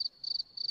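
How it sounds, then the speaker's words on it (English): A cricket-chirping sound effect plays, with three high, pulsing trills in quick succession, clear and isolated with no talk. "Crickets."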